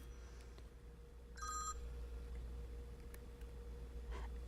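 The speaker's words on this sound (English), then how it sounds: "oh, my phone is going off, just one moment" A mobile phone rings in short electronic bursts: one clear chirping burst near the start and a fainter one later, over a low steady indoor hum with no talking.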